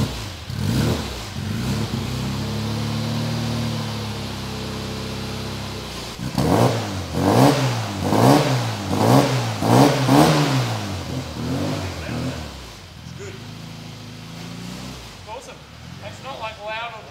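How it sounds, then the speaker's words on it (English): A supercharged Mini with a stainless steel performance exhaust idles with a steady low rumble, then is revved in a quick series of rising and falling bursts before settling back to idle. "With that done, we can bring the car down and see what it sounds like."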